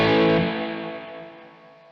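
An electric guitar played through a Ratajczyk Cream Reverb amp rings out as a single loud, distorted chord with a reverb tail that decays smoothly over two seconds.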